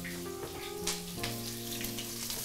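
Eggplant and onion sizzle steadily in hot oil in a wok, with a dense crackling hiss running throughout and no talking.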